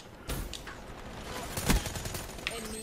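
Gunfire in Black Ops 3 rings out in scattered bursts, sharp cracks at moderate distance with one loud close shot near the middle and a brief volley afterward. Voices talk faintly beneath it.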